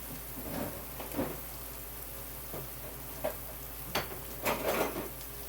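Pork chops browning in an electric skillet give a quiet, steady sizzle and hiss, with a few soft clicks and knocks from the pan.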